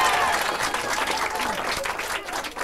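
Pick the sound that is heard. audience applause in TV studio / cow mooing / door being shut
audience applause in TV studio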